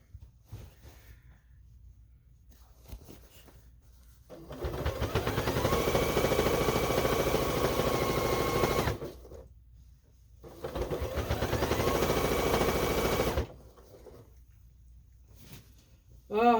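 A sewing machine stitches quilt binding near a thick seam, running in two sustained loud bursts of rapid whirring separated by a pause, close up, with no talking.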